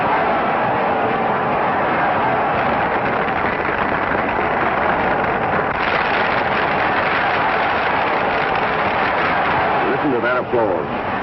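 Sustained applause from a crowd greeting contestant Tex Masters at a 1937 Texas contest, dense steady clapping filling the whole stretch, with voices mixed in under it.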